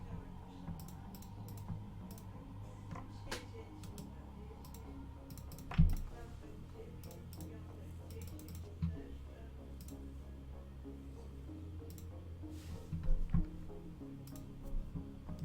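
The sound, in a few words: typing on a computer keyboard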